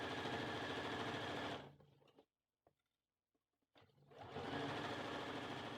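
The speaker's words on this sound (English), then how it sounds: "we'll sew all the way to the end, making sure that the rough edges are all on top of each other" A sewing machine stitches the seam of a skirt for an 18-inch doll, making a loud, close, fast rhythmic whir. It stops for about two seconds, broken only by faint clicks, then starts again.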